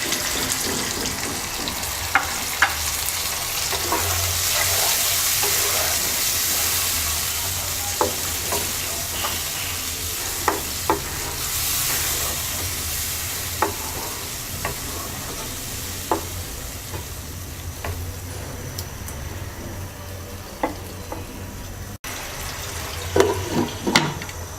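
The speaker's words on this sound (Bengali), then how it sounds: "হাফ কাপ পানি দিয়ে ট্যাংরা মাছটাকে 5 মিনিট কষিয়ে নেব।" Tangra fish braising in a pan with half a cup of water: a steady bubbling sizzle with intermittent stirring clinks and scrapes, close and continuous for a long stretch, no talk.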